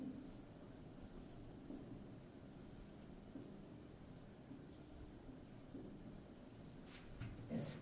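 Pen writing matrix elements on paper, a faint, close scratching that goes on in short strokes and pauses, with no talking, in a quiet room.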